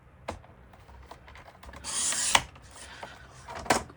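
Trimming the edges off a homemade stencil: scattered close clicks and short scraping cuts, with one longer rasping stroke in the middle, quiet and with no talking.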